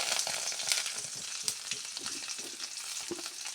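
Curry leaves hitting hot oil in a home kitchen, a steady close crackling sizzle with sharp spits and pops throughout, no voices.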